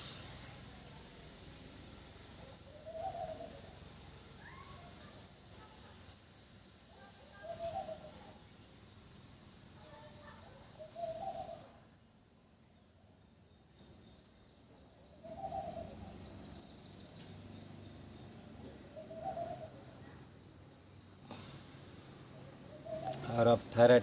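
During a yoga breathing exercise, a person makes soft pigeon-like cooing sounds with the throat, a voice imitating a dove. Short coos repeat at fairly even intervals over a faint steady hiss.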